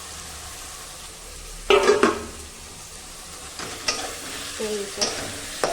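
Egg and potato frying in oil in a pan, stirred with a utensil in scraping bursts over a low sizzle, with brief speech.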